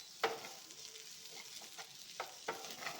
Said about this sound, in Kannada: ಹಾಕ್ಬಿಟ್ಟು ಎಲ್ಲ ಮಿಕ್ಸ್ ಮಾಡ್ಕೊಳ್ತೀನಿ